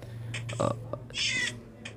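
A cat mob meows in the video game Minecraft, a few short, clear cries close up over a faint background hum, with a higher drawn-out call near the end.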